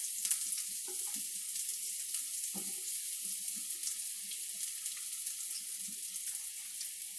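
Thinly sliced onion frying in a pan with jowl, a steady hiss of sizzling fat with a few small pops and clinks of a utensil, close and continuous, no talking.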